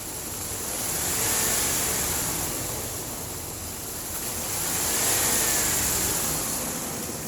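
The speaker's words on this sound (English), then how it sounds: "2008 Dodge Ram, mileage 177, 917, engine run video." A 2008 Dodge Ram pickup with about 177,900 miles runs steadily, its engine note swelling in two slow revs and easing back between them, heard alone and up close.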